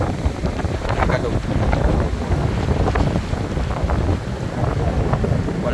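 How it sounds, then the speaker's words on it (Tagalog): Strong wind buffets a large diesel-powered boat, a steady loud roar of gusts and microphone wind noise with water sloshing beneath, continuous throughout. "Lakas ang hangin."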